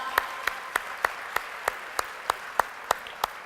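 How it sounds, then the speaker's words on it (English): Applause from an audience at a black tie event, heard as about a dozen sharp, evenly spaced claps standing out over a quiet room, steady and fairly near. "give yourself a round of applause for everybody coming out"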